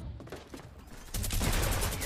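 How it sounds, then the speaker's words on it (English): Minigun firing in the Fortnite video game, a dense rapid stream of gunfire that swells louder midway and keeps rattling to the end, with no voices. "that minigun is so stupid"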